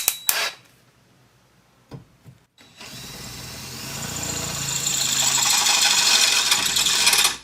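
A few sharp clicks and knocks, then a power drill with an inexpensive bit that cuts poorly spins up and grinds steadily into material while installing Polaris Ranger half doors, growing louder and continuing to the end.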